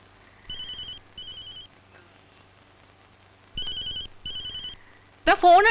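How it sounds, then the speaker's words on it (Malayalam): A telephone rings in a movie scene: two pairs of bright electronic trills, then a long pause before two more, followed by a voice at the end. "ഫോൺ അടിക്കുന്നു. ആരാണ് നോക്കാമോ?"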